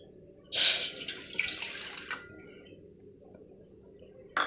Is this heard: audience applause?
no